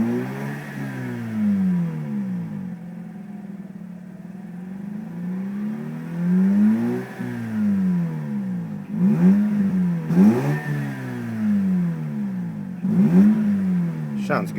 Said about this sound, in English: let's see how she revs. Give her a couple revs